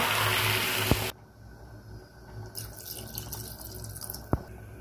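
Water is poured into a pan of cauliflower, potato and prawns: a loud, rushing pour for about a second, then it stops, leaving quiet pan sounds and a couple of sharp clinks.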